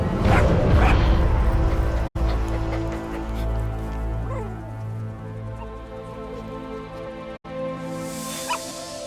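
The puppy DD in Metal Gear Solid V gives a few close, high yips and barks, then whimpers softly over a sustained musical drone.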